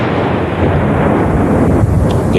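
Cross-border artillery fire near a village, a loud, continuous booming rumble filling the whole stretch with no clear pauses, heavy and close.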